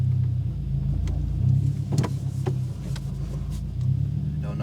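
A 2022 Subaru WRX drives along with clunking end links: a constant low road rumble broken by several sharp, irregular knocks from the suspension, with no one talking.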